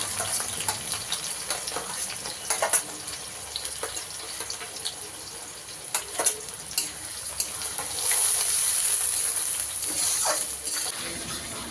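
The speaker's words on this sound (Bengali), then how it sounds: "এবার দেখো ভালো করে মশলাটাকে কষিয়ে নিয়েছি" Meat masala spice paste sautéing in a pan with steady sizzle and intermittent scraping stirs, a brief louder hiss near the end; no talking.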